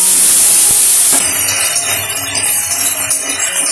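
Nigella seeds and chilli sizzle in hot oil for a Bengali-style hilsa fish dish, a loud, close, continuous frying hiss that shifts and softens slightly after the first second.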